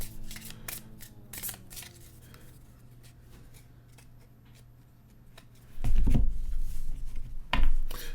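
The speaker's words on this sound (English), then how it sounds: "I shuffled these already. I'm gonna do it again." A deck of cards shuffled by hand, with rapid riffling bursts at the start and louder, closer shuffling and card handling near the end, separated by quieter rustling.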